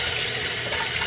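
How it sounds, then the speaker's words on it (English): Cold tap water runs steadily over freshly boiled eggs to cool them, a continuous close hiss and splash at a constant level with no talking. "You wanna run these over some cold water because they are gonna feel kind of hot"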